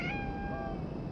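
A single short cat meow rings out in the video game Conarium, a clear tonal cry over a low ambient game hum, fairly quiet and heard alone.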